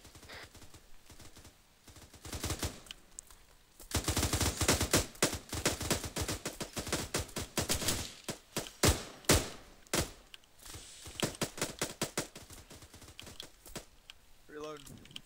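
Dense, rapid bursts of automatic gunfire in a military video game, with near and far shots overlapping for most of the stretch and thinning toward the end; voices faintly mixed in.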